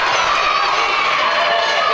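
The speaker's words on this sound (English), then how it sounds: "This crowd going crazy here." A wrestling crowd at an Irish Whip Wrestling show roars steadily during a match, with dense, sustained cheering and shouting that keeps a loud, constant level throughout.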